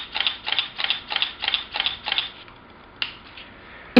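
A Canon EOS Rebel T2i (550D) DSLR fires its shutter in burst mode, eight quick close mechanical clicks in an even rapid rhythm, then a pause and one more single click.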